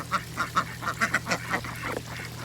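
Ducks quacking in a quick series of short calls, close by, over a steady low electrical hum.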